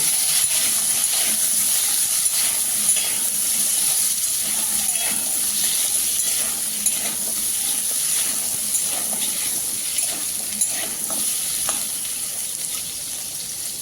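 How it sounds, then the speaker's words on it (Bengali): Diced squash pieces lightly frying in hot oil, giving a loud, continuous sizzling hiss with small pops that holds steady throughout. "এবারে কোয়াশগুলো ভেজে নেব কোয়াশগুলো বেশি ভাজবো না হালকা করে একটু ভেজে তুলে নেব"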